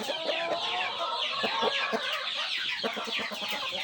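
Chickens for sale cluck and chatter close by, several birds calling in an overlapping, busy stream with no talking.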